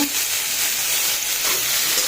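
Small dried shrimp frying with cabbage in a pan, a loud continuous sizzle and crackle filling the whole moment, close and steady with no talk.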